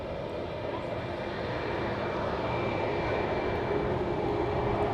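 A Boeing 737 Max 8 at Manchester Airport gives a steady, broad engine roar that holds level and fairly loud throughout, with a faint voice underneath.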